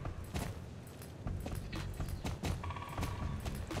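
Horse hooves clip-clop over terrain in the video game Star Stable, a busy, uneven run of hoofbeats with faint game sounds and music underneath.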